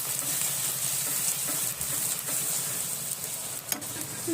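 Turmeric and chili powder fry in a pan with a steady soft sizzle, while a utensil stirs and scrapes gently, producing occasional faint clinks against a low, constant hiss.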